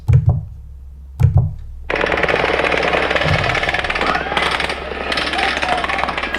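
Rapid automatic gunfire from the Las Vegas mass shooting at Mandalay Bay erupts after a couple of isolated bangs, a long continuous harsh burst of rounds, loud and distorted.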